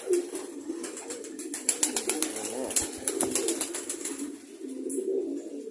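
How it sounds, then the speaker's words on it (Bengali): Several pigeons coo steadily in a loft, soft repeated throaty calls with brief wing flutters and rustling, fairly close throughout. "খুবই বিশ্বস্ত আমার মাদি কবুতরটা"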